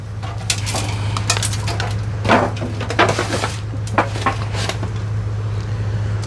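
Beer can chicken is pulled off the beer cans into a foil pan, with several sharp metallic clinks and crinkly scrapes at irregular moments over a steady low background hum.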